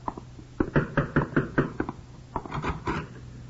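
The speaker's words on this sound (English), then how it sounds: "When Comrade Martin finally knocks at my door" Knuckles rap on a door in two quick bursts of sharp, close knocks, a run of about eight followed by a shorter group, with a low hum underneath.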